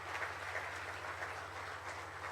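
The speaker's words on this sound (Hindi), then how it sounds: "मैं चाहूँगा ये 27 संस्थाओं के लिए एक बार जोरदार ताली हो जाए।" Steady, dense applause from an audience at a felicitation ceremony, a continuous wash of clapping with a low mechanical hum underneath, loud and unbroken for the whole stretch.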